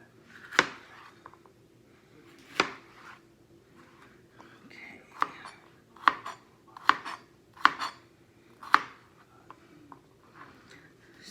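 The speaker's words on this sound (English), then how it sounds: "so we have our onions and peppers all cut up" Onions and peppers being chopped on a board, a series of sharp knife knocks spaced irregularly, some in quick succession, close and fairly quiet with little else around.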